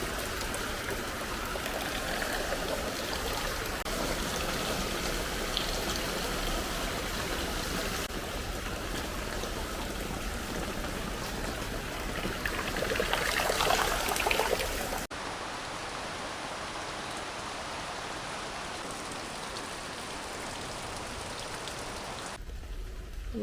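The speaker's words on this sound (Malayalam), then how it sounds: "മഴയുണ്ട്." Steady rain pours down outdoors in a dense, continuous hiss, slightly heavier and more splashy in the middle before settling into an even, unbroken downpour with no voices.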